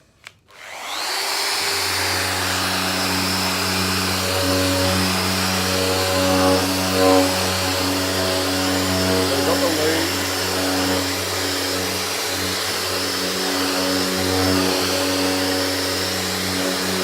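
Festool ETSC125 random orbital sander with a hard pad switches on and runs at a steady, loud whine and hum for the whole stretch, close up and uninterrupted.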